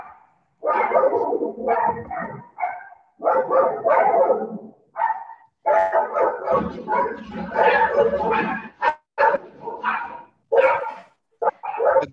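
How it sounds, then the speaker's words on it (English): An angry dog barks in repeated bursts, some growling and whining between them, loud and close, with short pauses between volleys. "The dog is very angry."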